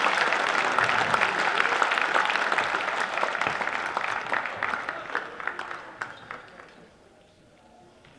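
A crowd applauds a school basketball team, the runners-up at a national secondary schools championship in an arena. The steady, fairly distant clapping swells and then gradually fades out over about eight seconds.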